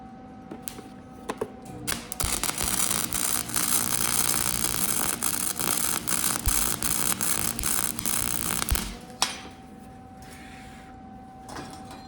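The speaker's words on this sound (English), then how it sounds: "I'm at least going to spot it in here with the MIG welder." A MIG welder spot welds a pipe onto the base of an old wind vane under restoration, a steady broadband crackling buzz running for about seven seconds between quieter gaps, close and loud.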